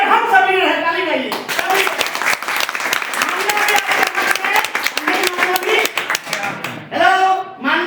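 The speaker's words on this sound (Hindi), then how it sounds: "ताली बजाइए।" A meeting audience at an RCM gathering bursts into loud, sustained clapping, a dense crowd of hands applauding continuously for several seconds, with a voice heard briefly at the start and again as it ends.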